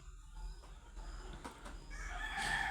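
Chickens cluck and stir while feeding in a flooded poultry shed, then a rooster crows loudly near the end over a steady low hum.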